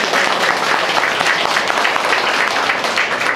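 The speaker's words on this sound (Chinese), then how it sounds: "请大家掌声鼓励" Applause at a maker-education launch ceremony, a dense, even wash of many people clapping, loud and sustained with no talk over it.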